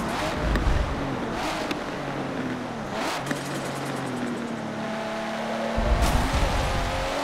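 A Nissan GT-R R34 engine in the racing game Forza Motorsport 7 revs up and drops through gear changes with turbo whooshes and tire noise, loud and continuous, with brief bursts at each shift.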